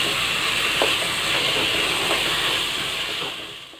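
Mutton boti pieces frying with chana in a pan give a steady, loud sizzling hiss that stays even throughout and eases off slightly at the end.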